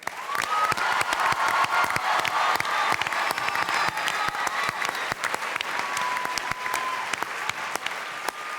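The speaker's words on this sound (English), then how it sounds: "They deserve your strongest applause." A large crowd at a televised telethon closing ceremony applauds continuously, dense sustained clapping with scattered louder claps, filling the whole stretch without speech.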